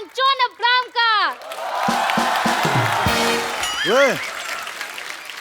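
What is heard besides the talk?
studio audience clapping and cheering to welcome guests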